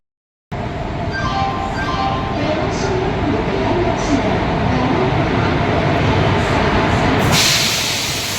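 Steady rumble of a moving train fills the whole clip, with continuous low clatter and a brief rise in hiss near the end; faint voices blend in.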